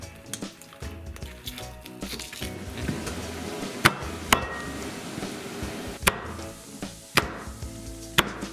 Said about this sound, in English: The trick to cutting it easily is to flip it over